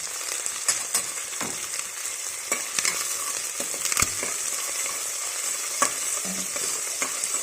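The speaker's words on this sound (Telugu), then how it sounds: "ఇలాగా ఆనియన్స్ వేసుకున్న తర్వాత కరివేపాకు పచ్చిమిర్చిని వేసుకుందాం ఇప్పుడు కలుపుకుందాం" Onions, curry leaves and green chillies fry in hot oil for a rajma curry, giving a bright continuous sizzle with scattered crackles and the scrape of stirring throughout.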